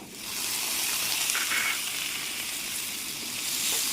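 Chopped tomatoes frying with wilted onions in a pan, giving a continuous close sizzle with a hissing, watery crackle that holds steady throughout.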